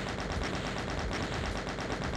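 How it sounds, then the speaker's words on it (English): A chaingun in Doom fires nonstop at a Cyberdemon, an evenly spaced stream of loud rapid shots that fills the whole stretch with no pauses and no voices. "I have to shotgun or chain gun him."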